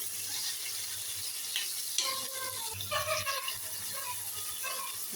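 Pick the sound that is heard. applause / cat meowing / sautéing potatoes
sautéing potatoes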